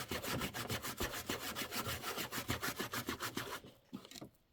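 A hand rubs quickly back and forth over chenille fabric on a quilt block, making a close, rhythmic rasping brush of about twenty strokes that stops abruptly near the end, followed by a few softer scuffs.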